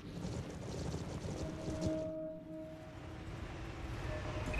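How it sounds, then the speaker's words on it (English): A vehicle engine from the Halo Wars 2 video game drones steadily as a low, continuous rumble with broadband wind-like noise and a faint tonal hum, moderately loud and unbroken throughout. "Listen to that engine purr."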